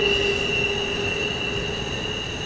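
A train passing on single track near the Pinkerton control point, a steady loud rumble with sustained high wheel squeal throughout, close by and without voices.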